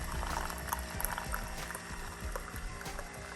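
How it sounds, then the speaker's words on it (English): Keurig K-Mini coffee maker dispensing hot cocoa, a steady close trickle and gurgle of hot liquid pouring into a cup with faint bubbling and sputtering throughout, no talking. "there it goes, dispensing a nice cup of"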